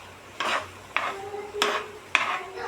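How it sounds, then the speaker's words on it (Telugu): Cooked rice being stirred with masala in a pan for tomato rice: four distinct scraping strokes of a spoon against the pan, evenly spaced and close, with no talking. "ఈ అన్నానికి మసాలా అంతా పట్టే వరకు బాగా కలుపుకోవాలి."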